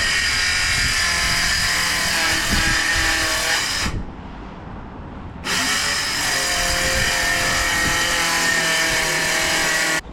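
A loud, close power saw rips through a timber board supported on a guide, whining steadily, pausing briefly in the middle, then resuming the cut until it stops at the end.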